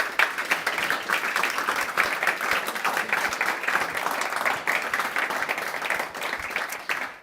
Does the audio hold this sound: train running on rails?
no